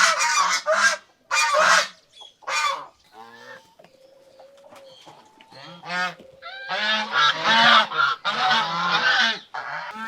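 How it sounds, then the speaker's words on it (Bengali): Geese honk loudly and close by on a cold, foggy winter morning, with bursts of repeated calls, brief pauses, then a busier run of overlapping honks. "আর এর মধ্যে দেখেন হাঁস গোসল করতেছে।"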